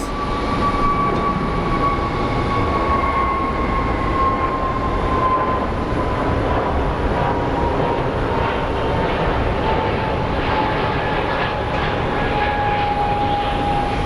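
An airliner taking off at Phoenix Sky Harbor airport, a loud, steady jet engine roar with a high whine that slowly falls in pitch, heard from a distance and unbroken for the whole stretch.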